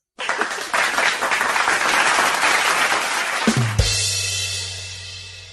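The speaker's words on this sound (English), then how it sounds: "clap for that" Enthusiastic clapping and applause from a small group during an interview with an art historian and painter, a dense burst that cuts off abruptly and gives way to a low sustained drone.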